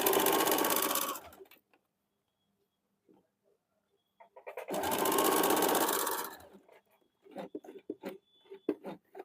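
Sewing machine stitching the side seam of a men's short kurta up to the pocket, two loud whirring runs of a couple of seconds each, separated by quiet, followed by scattered clicks and handling taps.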